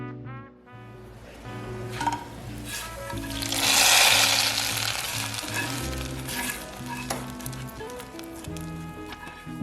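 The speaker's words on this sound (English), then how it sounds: "you want to pour over the tarka. Listen for that sizzle, it is so satisfying." Hot vegan tarka is poured over dal, setting off a sharp, crackling sizzle that swells loudly for a couple of seconds before settling into a softer, steady spitting and bubbling.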